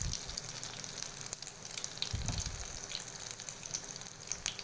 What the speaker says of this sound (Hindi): ये गोल्डन फ्राई हो रहे हैं माशाल्लाह से